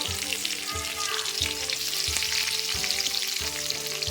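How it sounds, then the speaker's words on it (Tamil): Peanuts, dried and green chilies, ginger and curry leaves fry in oil in a pan for coconut rice, with a steady close sizzle and regular scraping stirs and no voices. "கருவேப்பிலை, எல்லாத்தையும் நல்லா ஃப்ரை பண்ணிக்கணும்"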